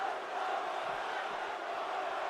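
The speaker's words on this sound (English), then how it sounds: "The crowd is saying one more time." A wrestling video game arena crowd chanting in unison, a dense, steady roar of many voices, moderately loud and continuous with no break.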